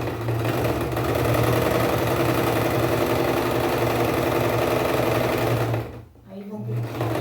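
A domestic sewing machine stitches steadily along a chalk line on fabric, a loud continuous motorised hum with a fast rhythmic needle chatter that pauses briefly near the end before resuming.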